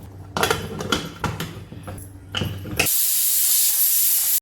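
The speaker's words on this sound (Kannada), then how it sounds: "ಈಗ ಲಿಡ್ ಕವರ್ ಮಾಡಿ ಕೇವಲ 1 ವಿಷಲ್ ಬರಿಸಿದ್ರೆ ಸಾಕು" A pressure cooker of dal and radish leaves lets off a sudden, loud, steady rush of escaping steam, preceded by knocks and clatter of pots and utensils.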